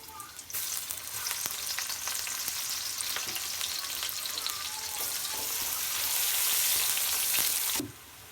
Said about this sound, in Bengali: তেলের উপরে দিয়ে দেবো পেঁয়াজ।